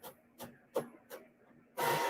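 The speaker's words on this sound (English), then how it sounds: "Gotta put some more ink in the printer." A printer turning out a shipping label chugs in four short mechanical bursts, then one louder, longer run of feeding and printing, close by and alone.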